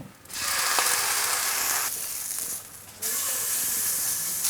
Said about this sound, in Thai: กระทะร้อนดีนะครับ ผมใส่น้ำมันลงไปเล็กน้อย